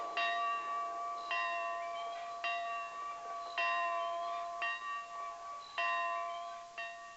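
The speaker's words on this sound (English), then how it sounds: "The assembly bell is calling all the folks of 11 Point Valley to a mass meeting" Assembly bell in Eleven Point Valley ringing out to call folks to a mass meeting against a dam, clear resonant strikes about once a second with ringing tones decaying between hits, alone and moderately distant.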